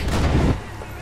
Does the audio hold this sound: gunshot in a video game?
yes